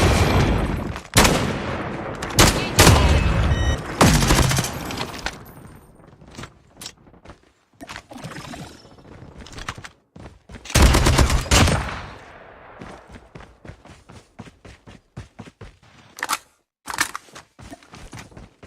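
Video game gunfire comes as loud bursts of rapid automatic shots and single cracks in irregular clusters, broken by quieter gaps with small clicks and rattles.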